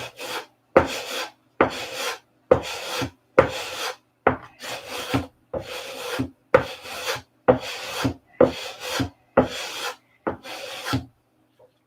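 Sanding on an aircraft's surface to work out a flat spot, with about a dozen steady back-and-forth rasping strokes in a regular rhythm, close and clear with no talk.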